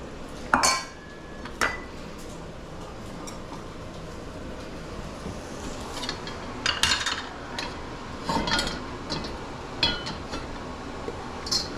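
A wok clatters and scrapes on the burner over high heat, with a few sharp metallic clanks spread over a quiet background hiss.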